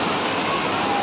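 Roar of the Ghatarani waterfall, a steady, loud wash of falling water that stays broad and unbroken throughout, heard up close with no voices on top.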